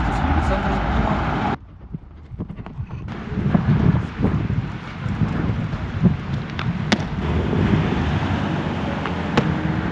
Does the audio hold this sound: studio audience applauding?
no